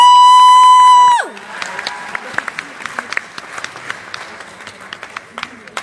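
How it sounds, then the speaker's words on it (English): Audience applause at an evening youth awards event, beginning after a sustained tone cuts off and continuing as steady, moderately loud clapping with scattered sharper claps and light cheering. "give a round of applause."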